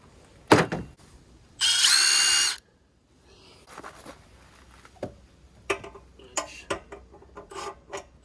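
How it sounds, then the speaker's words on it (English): A power tool loosens a bolt on the propane tank mount of a KZ Connect 241RLK RV in a single loud, steady one-second burst, followed by scattered metallic clicks and clanks of handling. "So there's a bolt here I'm gonna have to loosen a little bit."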